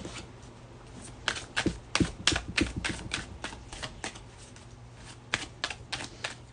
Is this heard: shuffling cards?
yes